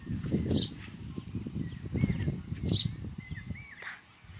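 House sparrows chirping near a home, several short bright calls scattered over a low, busy background rumble and rustle, heard fairly close and moderately loud.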